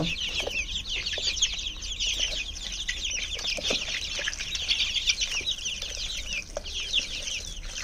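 A dense, steady chorus of chickens clucking and chirping as they are fed, many birds calling over one another without pause, fairly close.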